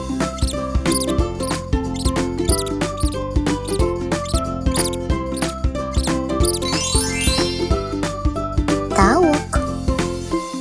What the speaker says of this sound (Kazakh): Тышқан.